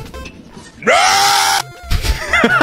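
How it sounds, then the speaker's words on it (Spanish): A young woman lets out one loud, sustained high scream lasting under a second, close and piercing, followed by a brief pause and then shorter vocal sounds and laughter-like noises. "Ignoren el grito de mi novia."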